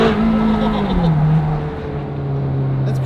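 A lightweight special sports car with a single-clutch gearbox drives along, its engine droning steadily and shifting pitch as it pulls through the gears, loud and close, with the raw mechanical tone filling the cabin.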